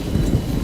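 Timefall rain and thunder in the video game Death Stranding, a brief burst of heavy low rumbling and rushing rain noise, loud and steady.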